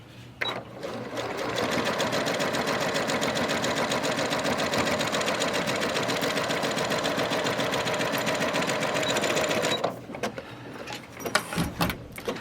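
A sewing machine stitches a fabric bag with gussets, running loud and steady for about ten seconds, then stopping and leaving brief handling noises.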